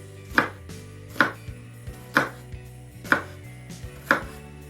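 A knife dices onion into small cubes on a wooden board, five firm evenly spaced thuds with faint lighter taps between, close and clear, no talking.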